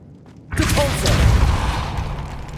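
A Depulso force spell cast in the Hogwarts Legacy video game, inside the Feldcroft catacomb: a sudden whooshing burst that swells and lingers as a dense rumbling wash for a couple of seconds, no talk.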